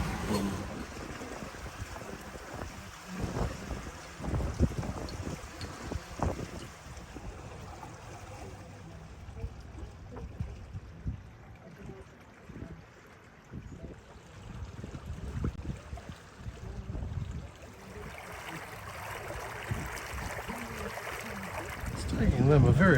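Wind of 15 to 20 knots rushes past a sailing yacht under way at nearly 6 knots, with gusty buffeting and a constant wash of water in the background, fluctuating in loudness throughout.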